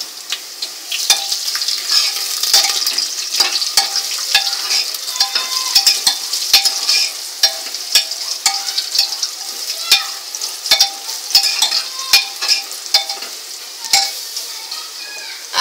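Whole garam masala, coriander seeds and fennel frying in hot oil for mutton pulao, a bright continuous sizzle with frequent spoon taps and stirring clicks, loud and close.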